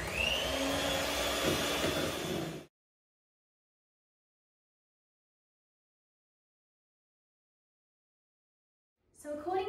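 An electric mixer whirs loudly as packet cake mix is blended with vanilla paste, running for a couple of seconds before cutting out, then starting up again briefly after a long silence.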